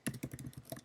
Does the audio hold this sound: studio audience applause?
no